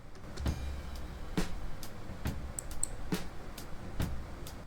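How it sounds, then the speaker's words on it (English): Unprocessed hi-hat from a mixing session of a song: about seven crisp, evenly spaced strikes in a steady groove, each a bright short tick with a little low bleed beneath, moderately loud and with no voices. "And this is how the hat sounds without any processing."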